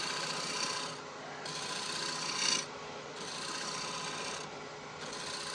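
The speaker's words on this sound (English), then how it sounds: "Drop my hand, turn it into a full cut, because I'm taking a lot of stuff off" A woodturning gouge takes a heavy full cut on a rough turned bowl, giving a steady loud rasping scrape in long strokes with short pauses between passes, close and alone.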